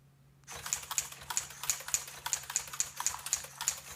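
A servo-driven hacked typewriter mechanism types a rapid, regular series of sharp mechanical key strikes, close and loud, starting after a brief quiet moment and continuing steadily with no talk.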